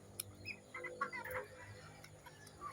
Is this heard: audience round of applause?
no